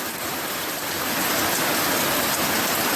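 Steady rain falls and patters continuously, a dense even hiss close by, with nobody speaking.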